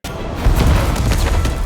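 A sustained, loud explosion rumbles through a Spider-Man PS4 game scene, a deep booming roar with crackling debris that swells after a brief onset and holds steady.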